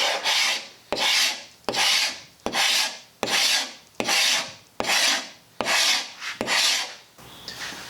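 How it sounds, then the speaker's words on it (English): A Bahco scraper pulls the powdery finish off a water-damaged antique wooden buffet in about nine steady, rasping strokes, each loud and close with a sharp start and a brief pause between. "I'm just using this Baco scraper."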